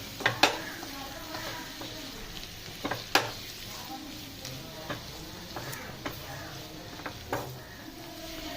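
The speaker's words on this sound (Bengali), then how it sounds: "তবে এটাকে ভালো করে মিক্স করে নেব মশলাটাকে।" Chicken gizzards frying in a pan with Kashmiri chili powder, a steady close sizzle broken by sharp scraping clicks of a spoon stirring and mixing the spice through, with no talking.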